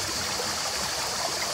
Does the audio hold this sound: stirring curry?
no